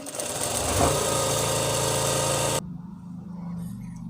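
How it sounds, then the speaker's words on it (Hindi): A sewing machine stitching palazzo pants runs with a loud, steady mechanical whir for over two seconds, then stops abruptly and leaves a quieter low rumble. "ऐसे हम इसकी एक सिलाई और लगा लेंगे एक दूरी पे"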